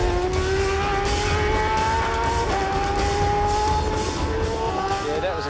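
A race vehicle at speed on a track during a fast lap, its engine a loud, steady high-revving drone whose pitch climbs, dips briefly at a gear change, then climbs again.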